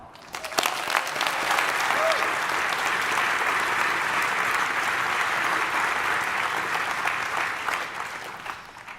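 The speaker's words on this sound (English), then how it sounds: "Let's give a round of applause to the engineers, scientists, and administrators that have kept that beacon of collaboration alive." Sustained audience applause during a Harvard commencement speech, a large crowd clapping evenly for several seconds, with a distant, roomy sound that swells and then tapers off at the end.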